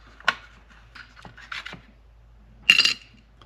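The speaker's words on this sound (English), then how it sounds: "Now we can take off this bracket." Handling noises from taking a bracket off a Marui Big Bear R/C monster truck during teardown: a few short scraping and rubbing bursts of plastic and metal parts, close and fairly quiet, ending in a louder rasp.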